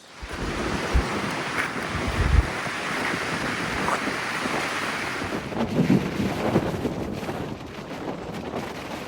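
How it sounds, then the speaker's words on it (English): A strong gale on the Eyre Peninsula, Australia, roars and buffets the microphone continuously, with heavy rumbling gusts and a rushing, surf-like hiss throughout. "it has been absolutely blowing the gale"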